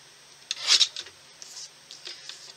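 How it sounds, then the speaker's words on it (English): Paper pieces for a stencil card craft trimmed by hand, a few soft, faint scraping and rubbing strokes at close range in a quiet room. "So we're just gonna trim these down."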